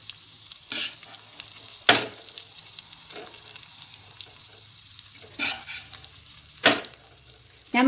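Chicken masala stirred in a frying pan in a home kitchen: a soft background sizzle broken by several sharp scrapes and clanks of the spoon at irregular intervals, with no talking.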